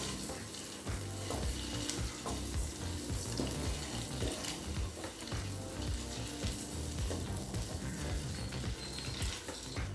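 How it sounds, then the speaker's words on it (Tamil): Eggs fry in a pan of oil for egg kurma, producing a dense, steady crackling sizzle that stays loud and close throughout with faint stirring knocks underneath. "முட்டையை 1 நிமிஷம் வரைக்கும் நல்லா வறுத்துக்கலாங்க"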